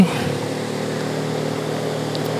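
An engine-powered fishing boat at sea off Mirya harbour, Ratnagiri, gives a steady, continuous low motor drone with a hum of harmonics, fairly close and alone, without pauses.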